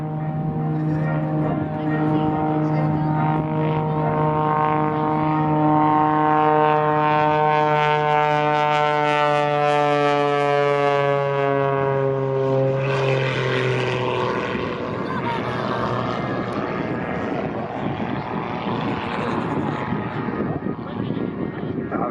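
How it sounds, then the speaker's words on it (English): An aerobatic propeller plane performs manoeuvres at the Southport Airshow, its engine a loud sustained drone whose pitch climbs steadily then sweeps down and roughens as it passes, dominating throughout. "he winds up this aircraft into a scintillating and stunning series of manoeuvres in the sky"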